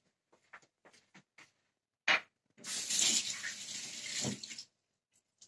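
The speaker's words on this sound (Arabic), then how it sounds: "نغسل يدي، نغسل يدي." Tap water runs steadily for about two seconds while hands are washed, preceded by a few small kitchen clatters and knocks, with no talking.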